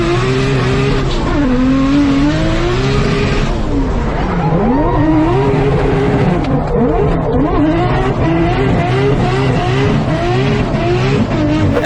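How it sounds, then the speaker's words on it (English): A Nissan R32 Skyline engine screams at full volume, its pitch sweeping up and down through repeated hard revs, with a tyre-squeal edge running throughout. "His R32 Skyline sounds absolutely insane."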